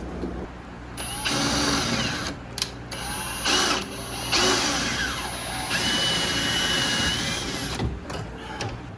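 A power drill whines in repeated close bursts, revving up and stopping several times with short pauses between, as rivets holding a soft top bracket are drilled out on an NC Mazda Miata.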